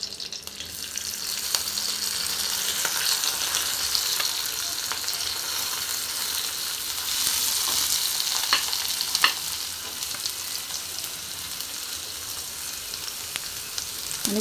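Chopped onion fries in hot tempering oil with curry leaves for smoked aubergine bharta, giving a loud, steady, hissing sizzle close by with a few faint stirring clicks and no voices.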